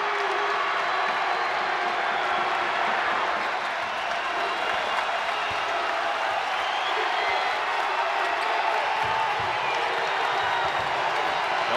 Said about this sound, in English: Here comes that West Kentucky crowd